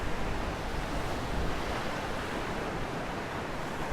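Storm-driven waves from a tropical storm break steadily against a seawall on the Chesapeake Bay, a continuous loud wash of surf mixed with gusting wind and no voices.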